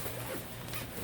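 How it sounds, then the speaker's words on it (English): A zipper bag is unzipped in one quick, steady rasp, close and fairly quiet. "a zipper bag."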